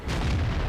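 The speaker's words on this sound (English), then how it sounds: "that was artillery that whacked me just then" An artillery shell slams into a tank in World of Tanks, a single short, heavy boom with a low rumbling body that hits at once and holds briefly without tailing off.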